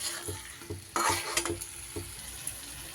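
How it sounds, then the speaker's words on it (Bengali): Chili green peas are stirred gently in a pan with a thin batter, soft scraping strokes and light clinks of the spoon against metal over a quiet sizzle, close up and without talk. "এইবার হালকা হাতে মিশিয়ে নিতে হবে।"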